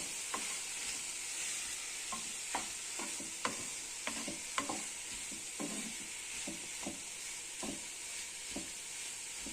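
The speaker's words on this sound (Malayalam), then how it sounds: "സ്ട്രോബെറി നമ്മൾ ഇട്ടിട്ട് അതൊന്ന് ഇളക്കി കൊടുക്കണം." Chopped strawberries for jam are stirred in a pan, a soft frying hiss under a steady series of scraping spoon strokes, close and fairly quiet, without speech.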